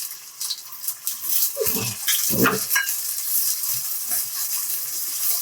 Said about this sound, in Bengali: পেঁয়াজটা শ্যালো ফ্রাই করে নিচ্ছি আমি